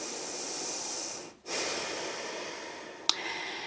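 A deep exhalation during a yoga pose for the legs and hips, a soft breathy rush that stops briefly and then resumes. It is close and quiet, with a small click near the end.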